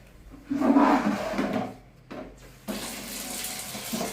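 Tap water runs into a basin while a bathroom is cleaned, splashing loudly in bursts that pause briefly before a steadier hissing flow resumes near the listener.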